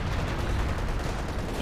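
Mortar pits firing in the video game Company of Heroes 2, a loud, unbroken wash of battlefield gunfire and blasts filling the whole short stretch with no pauses.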